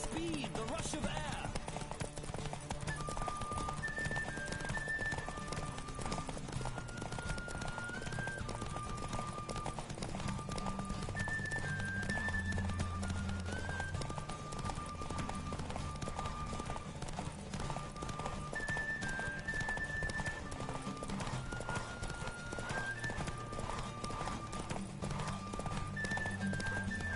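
Hooves clip-clop steadily throughout a horse race in a PS4 video game, with occasional whinnies and a game music melody playing over constant rapid galloping.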